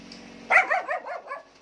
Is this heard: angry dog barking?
yes